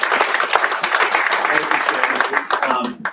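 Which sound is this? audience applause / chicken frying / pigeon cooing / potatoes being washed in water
audience applause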